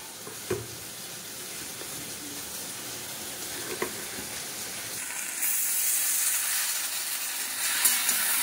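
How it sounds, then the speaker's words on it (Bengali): Jute leaves stirred into okra and eggplant frying in a pan, a continuous hiss and sizzle with a few sharp clinks from the spoon, swelling louder partway through. "ভেন্ডি বেগুন হয়ে গেছে, এর ভেতরে এবার পাট শাকটা মিশিয়ে দিলাম।"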